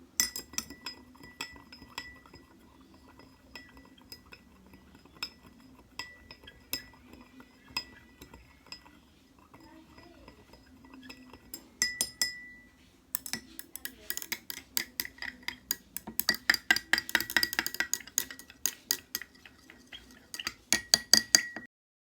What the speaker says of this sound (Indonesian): Kemudian aduk 3 gelas menggunakan pengaduk hingga rata.